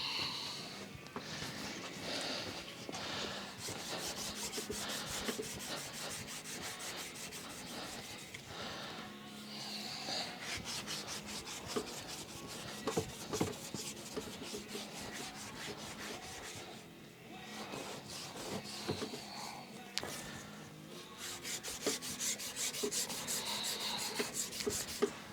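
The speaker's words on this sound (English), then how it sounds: "I guess we should clean this shaft up just a little bit" Rubbing and wiping grease off a Sheldon lathe shaft in a workshop: continuous faint scraping and rubbing strokes with irregular rhythm, close but quiet, without talk.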